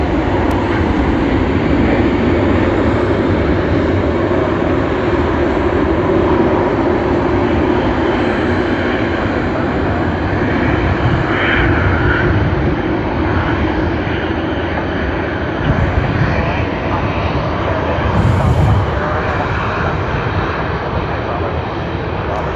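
A jet airliner roars steadily at Sydney Airport as it rotates on takeoff, a loud, sustained broadband engine rumble filling the whole stretch, with a voice talking faintly under it.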